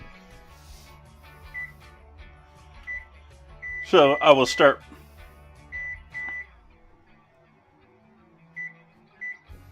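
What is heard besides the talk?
oven control beeps while setting a timer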